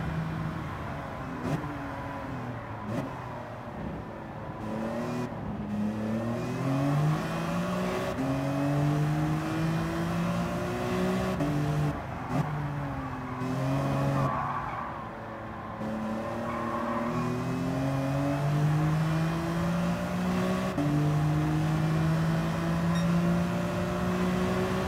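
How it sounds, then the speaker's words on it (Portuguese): BMW M3 race car engines revving and shifting in Gran Turismo 7, rising and falling engine tones across repeated gear changes, close and prominent, sustained with no talk. "Pensa que é uma corrida só de BMW?"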